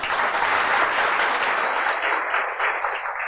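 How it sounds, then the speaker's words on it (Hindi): An audience at a Hindi talk or stage performance breaks into applause, dense and steady clapping throughout, loud and near, easing slightly toward the end. "ताली तो लोग दबाव में बजा रहे थे कि सब बजा रहे हैं"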